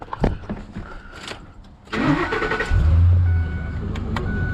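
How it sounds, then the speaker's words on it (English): A pickup truck fitted with a snow plow cranks over and starts after a few clicks and rustles, the starter whirring before the engine catches into a loud, close, steady idle. "There we go, truck has to be started."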